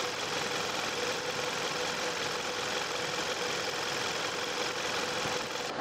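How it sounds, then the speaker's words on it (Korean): A Kia The New K7 2.4 GDI sedan engine idles steadily up close under the open hood, a smooth continuous hum with a light rhythmic ticking, unchanging for several seconds with no voices. "엔진 소리 들어보도록 하겠습니다."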